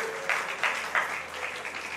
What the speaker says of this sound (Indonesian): Tepuk tangan buat ibu-ibu IBC yuk.